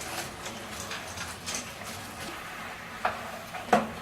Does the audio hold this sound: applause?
no